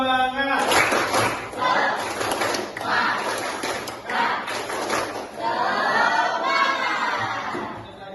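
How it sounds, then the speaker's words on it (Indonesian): A crowd applauding in bursts, dense clapping rising and falling over several seconds, with some shouting mixed in. "Tepuk tangan kita semua."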